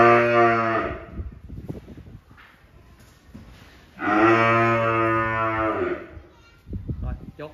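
Cattle on a farm give two long, loud moos a few seconds apart, with rustling and small movement noises in between.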